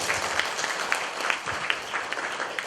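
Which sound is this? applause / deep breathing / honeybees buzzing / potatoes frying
applause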